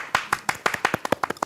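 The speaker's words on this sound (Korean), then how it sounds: "시타의 첫 여성 게스트 박수 한번 칠까요?" A small studio group claps for the first female guest on a talk show, a quick burst of close, sharp claps lasting under two seconds.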